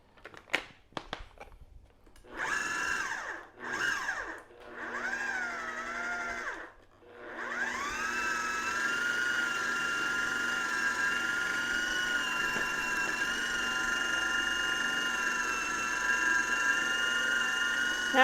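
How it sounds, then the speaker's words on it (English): An electric mixer whirs through apple crisp ingredients, starting in short stop-and-go bursts, then running steadily for a long stretch with a high motor whine, close by and with no talking. "Just mix it, mix it, mix it. Till it gets in there good."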